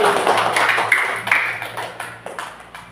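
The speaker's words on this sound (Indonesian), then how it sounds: "Bagus, tepuk tangan lagi." Students clapping in a classroom during a Quran recitation lesson, a lively burst of many hands that is loudest at first and then thins out into scattered claps as it fades.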